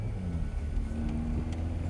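Steady low engine drone inside a moving Skoda with a broken passenger window, a constant rumble and road noise with a faint whine rising slightly.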